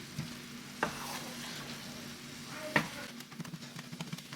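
Thawed frozen spinach cooks down in a hot pan with a soft continuous sizzle, broken by a few sharp scrapes and stirring knocks of a utensil.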